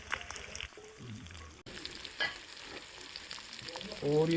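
Vegetables fry in a pan for an eel fish curry, giving a quiet, steady sizzle with brief stirring scrapes and a short break partway through.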